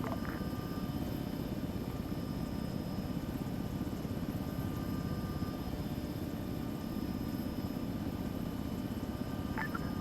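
A helicopter in a video-game military operation gives off a steady, even drone of rotor and engine at moderate level, with no talk over it.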